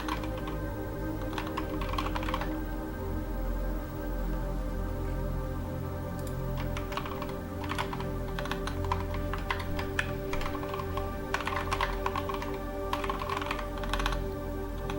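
Steady typing on a computer keyboard, a continuous run of close, crisp key clicks with brief pauses, sounding alone over a faint hum.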